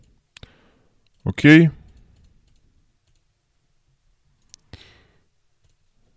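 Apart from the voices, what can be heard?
computer mouse clicks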